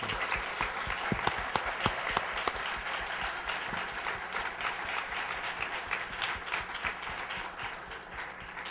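Audience applause at a seminar session on science and faith, a dense steady clapping from a crowd that fills the room, with a few sharper near claps standing out, continuing without letup throughout.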